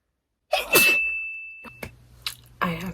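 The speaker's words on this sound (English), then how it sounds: "I have been sneezing all fucking day" An allergy sneeze, one loud close burst that trails off, followed by a few faint sniffs and a soft tone.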